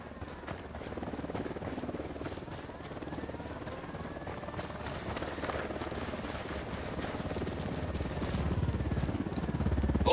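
A helicopter in the video game Ghost Recon, its rotor a continuous throbbing drone with faint pulsing chop that grows gradually louder toward the end.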